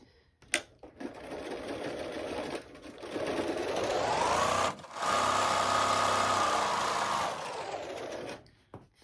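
A sewing machine stitching the top of a lunch bag in two close, steady whirring runs with a short pause between, the motor pitch rising and then holding.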